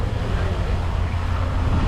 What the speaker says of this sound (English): I feel like it's still too windy now even to do anything